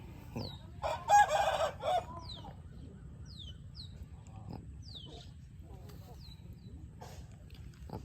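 A young rooster around 8–9 months old, a mixed-breed gamecock, crows several times at a distance, short rising calls over low steady background rumble, with a brief louder burst of nearby noise near the start.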